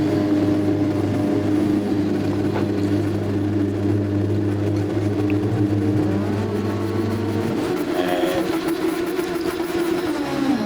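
Super Formula open-wheel race cars launch from the start of a sim race at Spa, a dense loud engine roar with steady low drone that shifts and rises toward the end as the pack pulls away, no talk.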